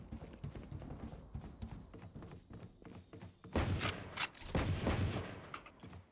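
Gunfire in the video game Valorant: a run of rapid sharp shots, then a louder cluster of heavier bursts and thumps, fairly close, with no voices.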